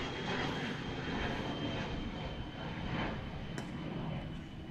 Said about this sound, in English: plane number 8 takes off from the Vero Beach